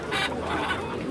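Hens at a poultry market in Kropotkin give a brief, close burst of clucking against faint market background noise.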